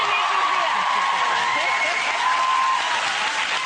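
Studio audience applause on a British TV chat show, a dense, steady wall of clapping with some cheering, loud and continuous throughout.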